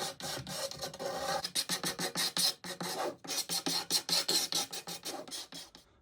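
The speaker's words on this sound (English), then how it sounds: "Next job is just to remove the lacquer on the bearing edges." Rapid rasping strokes of sanding or filing lacquer off the wooden bearing edges of a rare Tama Superstar split-lug 14x8 snare drum shell, a steady close run of back-and-forth scrapes with brief pauses, no talking.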